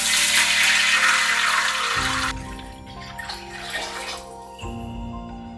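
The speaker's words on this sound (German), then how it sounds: "Wasser übergießen." Water poured into a hot pot over fried ginger rushes loudly for about two seconds, then settles into a quieter bubbling simmer with a second brief pour near the end, close and without talking.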